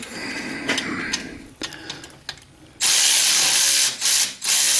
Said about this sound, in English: Use it as a ratchet. Ratchet it to loosen up